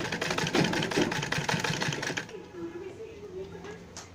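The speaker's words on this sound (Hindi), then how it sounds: "अब देखिए एक साइड में ये तो जिप और लग गई है, इसके ऊपर स्टिचिंग कर दी मैंने।" A sewing machine stitches fabric for a handmade handbag with a zip, running in a fast, rattling burst for about two seconds before stopping. A voice is heard afterward.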